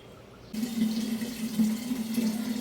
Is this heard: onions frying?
no